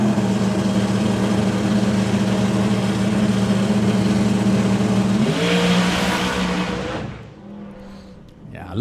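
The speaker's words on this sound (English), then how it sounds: "You could hear the wheel speed off the start line just got a little bit out of control" A drag racing car at a Doorslammers event launches off the start line with wheel speed getting slightly out of control: a loud, sustained engine roar that climbs in pitch, then quickly fades as the car pulls away.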